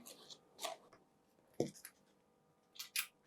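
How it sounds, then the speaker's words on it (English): Paper being creased with a ruler while folding an envelope: a few short, quiet scraping and tapping strokes in bursts, with quiet pauses between, close and faint. "I'm going to make a crease, lift the paper,"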